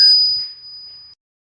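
A notification bell effect strikes once, a clear bright ding that rings out and fades over about a second after a short click.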